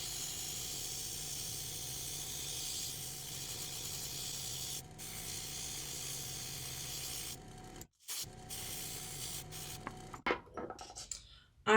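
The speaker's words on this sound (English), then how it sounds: "So I'm gonna go ahead and start airbrushing my flower." An airbrush sprays paint onto a sola wood flower with a steady, close hiss that runs unbroken for several seconds, then breaks into short bursts and pauses near the end.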